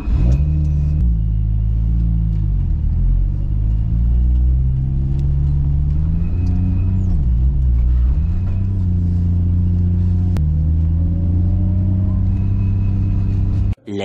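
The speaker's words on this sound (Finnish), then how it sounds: "nyt mä käynnistän tän auton ja koitan nopeasti livistää tästä ohi" A Nissan Skyline R33 GT-R engine running close by in a cold, icy setting, a steady deep rumble with a few rising and falling revs throughout, cutting off abruptly at the very end.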